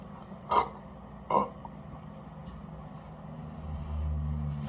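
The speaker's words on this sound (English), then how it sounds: "Today, some lion burps." Two short, sharp burps after shotgunning cans of Dr Pepper Zero Sugar, spaced under a second apart, while a tractor engine rumbles and swells in the background.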